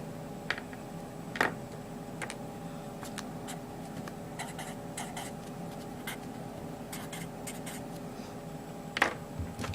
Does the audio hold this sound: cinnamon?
no